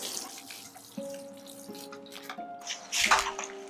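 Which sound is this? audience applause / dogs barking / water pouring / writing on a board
water pouring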